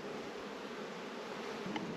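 Honey bees hum in a steady, dense buzz around an open beehive during a hygienic behaviour test, a faint continuous drone with no talking.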